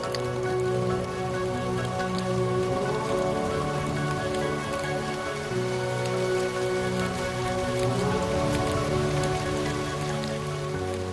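Steady, dense rainfall patters on surfaces all around in the Serengeti, Tanzania, a constant wash of drops with no voices.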